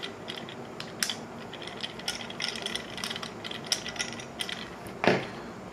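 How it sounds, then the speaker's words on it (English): Small screwdriver tightening a screw into a doorbell mount, faint scattered ticking and scraping clicks close by, with one sharper rattle near the end. "we'll use the provided screwdriver to tighten that up"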